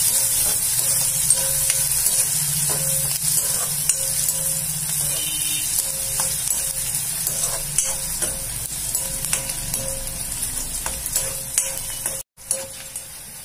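Finely chopped onion fries in a pan for Jalgaon-style baingan bharit, giving a continuous close sizzle with scattered stirring ticks, then a brief break near the end.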